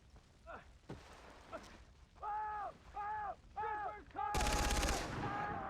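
Sniper gunfire in the shooter game Far Cry 3: a dense, crackling burst of shots breaks out near the end, following several tonal electronic beeps and someone speaking.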